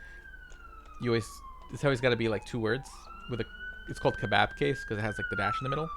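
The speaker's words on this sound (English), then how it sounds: "Sorry for the sirens. I do live in Brooklyn," Police siren on a Brooklyn street, a long, slowly falling then rising wail in the background under someone talking steadily up close.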